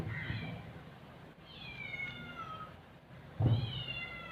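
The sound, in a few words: kitten crying, meowing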